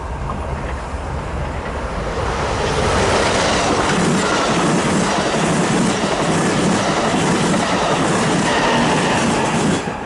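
Passenger train 777 bound for San Luis Obispo rolls past at Commerce, a steady loud roar with rhythmic clickety-clack of wheels over rail joints and a hint of wheel squeal, swelling as it nears and holding through the pass.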